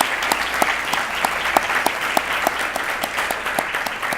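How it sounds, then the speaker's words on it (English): Audience applause at a school district Teacher of the Year luncheon, steady rhythmic clapping from a modest crowd with distinct individual claps audible throughout. "how about another round of applause for our board members"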